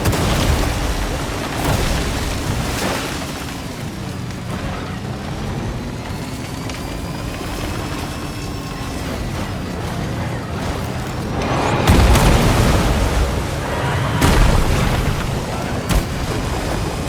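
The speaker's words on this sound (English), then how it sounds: "there goes one of those tar guns" Tar gun explosions in Death Stranding 2 during a rainy stretch of gameplay: a steady rumbling wash with several deep booms landing in the second half, under drawn-out tonal game sounds.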